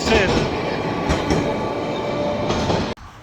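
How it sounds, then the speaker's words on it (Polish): An old tram rumbles past nearby on a street in Milan, Italy, with steady rail clatter and metallic rolling noise, cutting off abruptly near the end. "I w Mediolanie bardzo dużo takich starych tramwaj jedzie."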